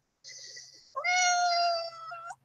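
A shy Russian Blue cat gives a soft, thin call followed by a longer, louder drawn-out meow, close and quiet indoors with no talking over it.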